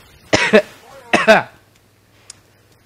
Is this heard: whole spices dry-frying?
no